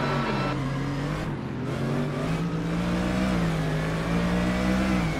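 S5000 open-wheel race car engine in Assetto Corsa at Tailem Bend, South Australia, revving hard and climbing through the gears at a race start, a loud continuous close-up drone that holds for about five seconds.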